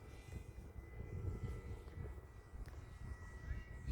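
A HobbyKing Yak-11 Steadfast 6s racer RC plane drones past at a distance, its electric propeller whine faint and steady over low rumbling wind noise.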